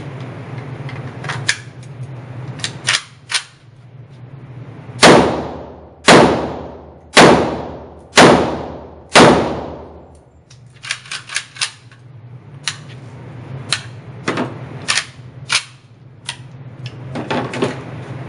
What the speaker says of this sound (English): So they claim with this muzzle brake, you can shoot it one-handed.